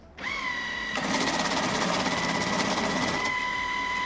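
A LIDIX ML-2VS banknote counter counts a stack of mixed-currency notes, starting with a loud, close motor whir that turns into a fast, dense riffle of bills, with a steady high tone running throughout.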